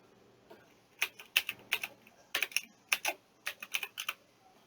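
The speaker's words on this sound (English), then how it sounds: "Let's type that in." Quick bursts of keystrokes on a computer keyboard while an answer is entered, clustered in short rhythmic runs with brief pauses, close and clear with no talking.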